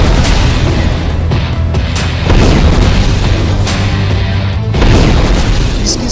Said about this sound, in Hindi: इसकी सबसे बड़ी वजह यह ब्लास्ट है, यह धमाका